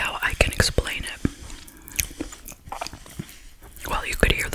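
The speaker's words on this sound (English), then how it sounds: "The crunch was not just from the chocolate shell, but also from the, what do they call it, knafa inside" Crisp bites and chewing of a Dubai chocolate bar filled with crunchy knafa, heard close and loud as repeated crackling crunches, with whispering between bites.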